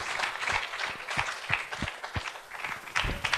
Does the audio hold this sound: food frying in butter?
no